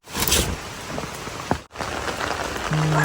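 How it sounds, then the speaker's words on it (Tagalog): Heavy rain pours steadily onto surfaces during a typhoon, a dense continuous hiss with scattered drop impacts and a brief dip midway. "Napakalakas po ng ulan."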